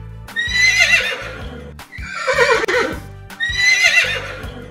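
A horse whinnies loudly three times in close succession, each call a long shrill neigh falling in pitch, with some thudding between.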